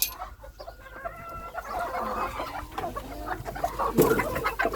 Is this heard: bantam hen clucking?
yes